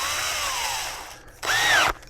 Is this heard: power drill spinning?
yes